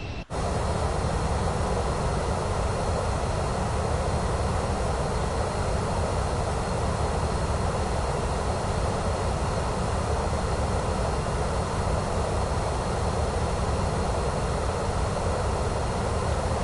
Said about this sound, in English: So the PC-12 has the same stack, all the same stuff. That's the prop version of the Pilatus.